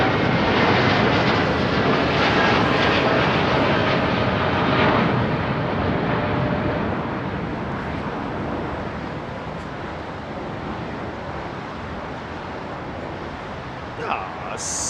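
A new Austrian jet departs Heathrow, its engine rumble loudest at the start and slowly fading into a windy wash as it climbs away, with a brief knock near the end.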